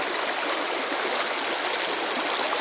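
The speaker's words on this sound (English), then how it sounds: "The water is quite peaty here, but it's fast flowing" A fast-flowing, peaty moorland stream rushes by close at hand. It gives a loud, constant broadband roar of churning water with no pauses and no voices.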